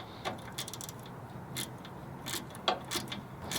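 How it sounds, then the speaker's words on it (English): A 4mm Allen key adjusts the screw on a bypass shock for a long-travel 3rd Gen 4Runner. Faint metallic ratcheting clicks come in short, irregular bursts over a low background hiss. "using our 4mm Allen key, we can now tighten down the screw or loosen it as necessary"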